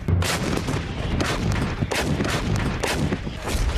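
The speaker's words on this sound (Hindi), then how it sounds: "गरजती तोपें" Heavy howitzer artillery guns fire during an army exercise in Arunachal Pradesh in a rapid series of loud booms, each blast rolling into the next with a thick, rumbling echo.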